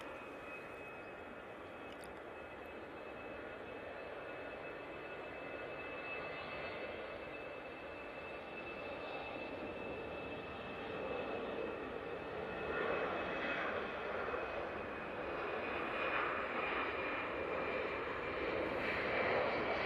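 An EasyJet jet airliner departs from Manchester Airport, its faint distant engine roar slowly building and growing louder toward the end, with a thin steady tone above it.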